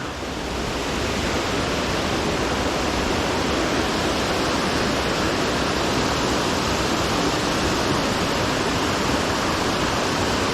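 Holcomb Creek Falls pours in an unbroken, full-bodied rush of water, a dense steady hiss close by with nothing else breaking through.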